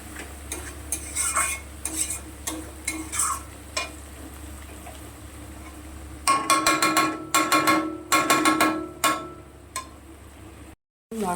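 A spatula stirs and scrapes masala spices frying in a pan with nearly boiled potatoes for a katla fish curry, steady sizzle under repeated metallic scraping strokes that grow louder and busier midway.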